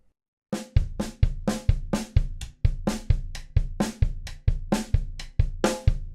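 A drum kit plays a steady groove of alternating hand and foot single strokes, each punchy hit evenly spaced, loud and close with no talking.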